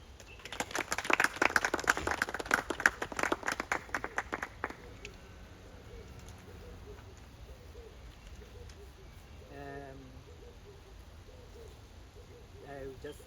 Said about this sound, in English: please help me welcome with a round of applause